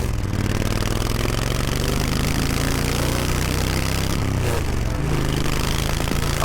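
Motorcycle engine while riding, a steady low rumbling drone with constant mechanical clatter and wind, close and continuous for the whole stretch with no talk.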